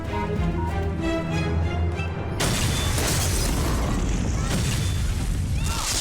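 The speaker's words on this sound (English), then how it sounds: "All units, there's been an explosion on 1214 Grand Street." An explosion in a building from a TV show scene: a sudden loud, broad blast cuts in partway through and is followed by a sustained rumbling roar and debris noise, after quieter tonal music.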